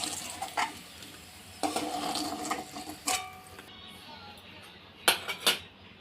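Fried potatoes are lifted out of the pan into a bowl with a run of scraping and clinking from metal utensils and dishes, a few sharp clinks standing out near the end, with no talk.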